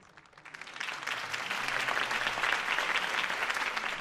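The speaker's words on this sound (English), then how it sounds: "If only Mr. Wayne, my campaign's largest backer, could have heard that applause" Campaign-speech crowd in a Batman video game breaks into applause, the clapping swelling from quiet to a dense, sustained roar of many hands.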